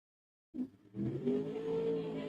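Top Sportsman drag race cars at Tri-State Raceway launching and accelerating, a loud engine roar rising out of silence and holding strong and steady at a distance.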